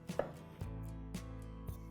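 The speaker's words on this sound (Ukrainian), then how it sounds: "я беру наші бесарабські томати, які пахнуть ланом і нашим сонцем і просто нарізаю їх навпіл" Four crisp knife chops halving tomatoes on a cutting board, spaced about half a second apart, close and distinct against a quiet background hum.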